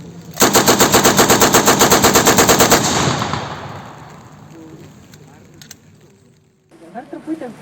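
Light machine gun firing a sustained rapid burst at a public event, loud and close for about two and a half seconds, followed by fading reverberation and a brief voice near the end.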